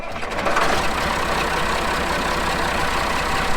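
A piece of heavy equipment catches and settles into a steady idle, with a low throbbing engine note and a clattering mechanical rhythm running at an even, loud level, with no talk.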